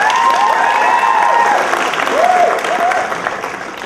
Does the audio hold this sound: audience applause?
yes